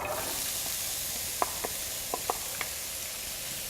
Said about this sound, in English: And then I'm going to put some oil in there. And then I'm going to saute first with the onion.